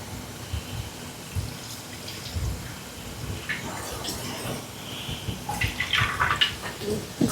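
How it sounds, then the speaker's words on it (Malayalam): Soaked tamarind is squeezed by hand and its water poured into a clay pot, making faint, intermittent wet squelches, drips and trickles that grow a little busier toward the end. "ഈ ചട്ടിയിലേക്ക് കുറച്ച് പുളി വെള്ളം ഒഴിക്കാം. പുളി കുതിരാനായിട്ട് വെച്ചല്ലോ, അതൊന്ന് പിഴിഞ്ഞൊഴിക്കാം."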